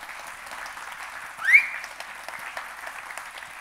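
An audience claps at an arts symposium, giving a steady, moderately loud ovation throughout, with a brief louder whoop or whistle in the middle.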